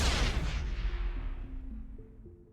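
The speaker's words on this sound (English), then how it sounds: "I threw a grenade" A grenade blows up in a video game: one deep, loud boom that starts at full force and rumbles down over a couple of seconds, with faint low tones hanging in the fading tail.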